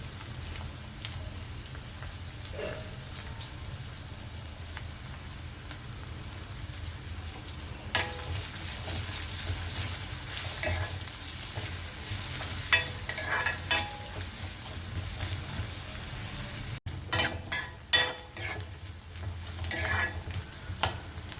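Sliced onions, green chillies, dried red chillies and curry leaves frying in oil for potato curry, a continuous crackling sizzle with scattered stirring clicks and scrapes that grow busier toward the end.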